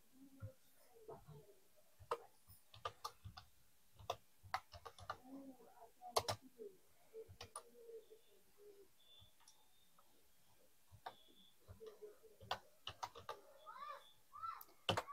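Fingers tap out text on a computer keyboard in quick irregular bursts of close, crisp key clicks, pausing briefly midway before resuming.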